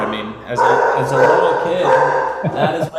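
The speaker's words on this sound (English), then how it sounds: "that's my dog. Sorry about that." A dog barks a few times in the background of a home setting while someone talks over it.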